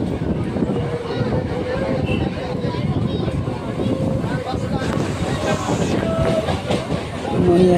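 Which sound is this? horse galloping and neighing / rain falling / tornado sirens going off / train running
train running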